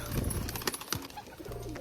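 Pigeons in a backyard loft coo softly and repeatedly at close range, a few low throaty calls over faint background noise.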